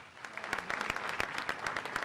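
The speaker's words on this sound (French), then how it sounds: "nous avons Madame Aïssatou Taran Diallo, qu'on applaudit très très fort." Applause from the audience at a debating contest final between Burkina Faso and Chad, many hands clapping in a dense, even patter, moderately distant and not very loud.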